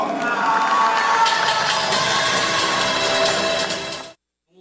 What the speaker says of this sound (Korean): 대표팀 선수들을 호명할 때마다 팬들의 박수가 쏟아졌습니다